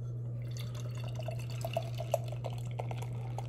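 St. Arnold's Banger IPA beer poured from a container into a glass, a soft liquid trickle with scattered glugging drips over a steady low hum, fairly quiet and without talk.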